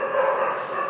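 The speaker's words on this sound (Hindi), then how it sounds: "ये कुत्ते भी परेशान कर रहे हैं, तो प्लीज़ अभी देखिए कितनी ज़्यादा आवाज़ हो रही है" A pack of dogs barks and yips continuously at night, close and fairly loud, with overlapping high yelps and whimpers and no voices.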